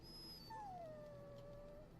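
A dog in the video game Dragon Age Origins lets out a soft, high whimper that slides into a long, falling howl, faint and alone over quiet background hum.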